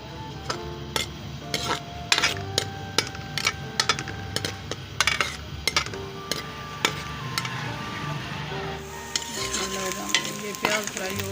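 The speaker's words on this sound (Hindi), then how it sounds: "ये प्याज फ्राई हो गया।" Onions fry in hot oil for spinach and potato sabzi, sizzling steadily while a metal spoon scrapes and clicks against the pan in an irregular stirring rhythm.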